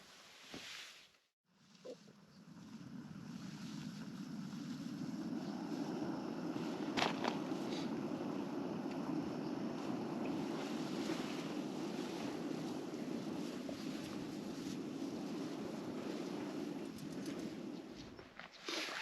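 Breezy wind blows steadily outdoors at a wild camp in Snowdonia, a continuous buffeting rush against the microphone after a brief quiet start, then fading out at the end.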